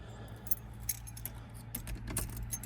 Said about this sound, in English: Keys in the other pocket.